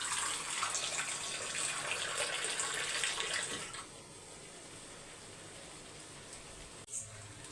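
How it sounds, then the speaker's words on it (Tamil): Water pours steadily into a pot of fish curry for several seconds, then stops, leaving quiet background with a brief clink near the end. "தண்ணி சேர்த்துக்கலாம் அதுக்கப்புறம் வந்து அரைச்ச விழுதை சேர்த்துக்கோங்க"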